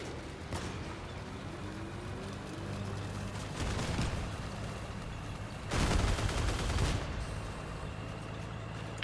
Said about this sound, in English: Hellgun shot is really annoying